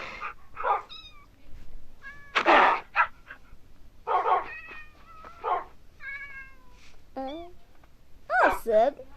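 Several cats meow repeatedly in the video game Minecraft, mixed with dog barks and whines from a Minecraft village, a lively overlapping cluster of loud calls with short gaps.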